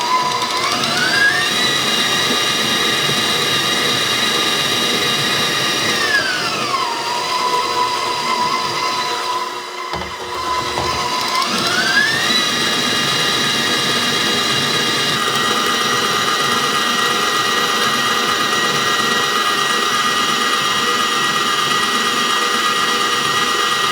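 A Hamilton Beach Professional 5-quart, 450-watt stand mixer runs loud and steady near the microphone, its motor whine shifting pitch as the speed changes, with a brief dip partway through.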